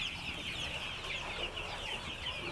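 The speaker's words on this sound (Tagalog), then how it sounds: "manok mo" Chickens cluck on a small farm, a steady, dense layer of fowl calls running through the whole stretch over constant background noise, with no talking.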